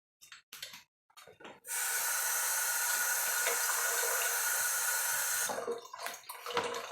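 Cold water pours steadily into a bowl of cornstarch for several seconds, a close, even splashing stream framed by quiet kitchen handling noises before and after.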